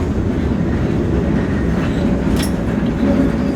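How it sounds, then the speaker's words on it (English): An Auckland Dockline tram pulls into a stop with a steady, loud, close rumble of wheels and motor and a brief high squeal partway through, with no voices. "Now we're pulling into our next tram"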